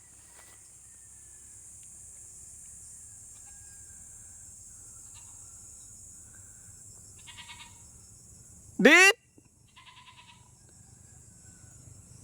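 A single loud goat bleat rings out sharply against quiet farm ambience, preceded by a brief shout and faint distant sounds.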